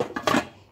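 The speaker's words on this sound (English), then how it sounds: "Put a lid on it." A metal lid clanks down onto a saucepan, a quick pair of clattering knocks followed by a brief ringing fade.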